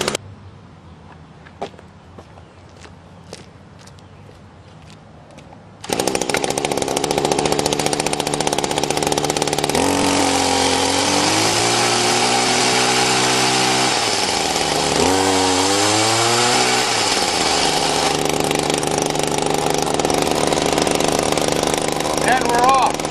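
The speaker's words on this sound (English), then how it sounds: "If I rev it up, the back wheel starts to spin in the way it wants to go." A small weedeater engine mounted on a motorized bicycle starts up and runs with a loud, raspy buzz, rising and falling in pitch through repeated revs, following a few faint clicks at the start.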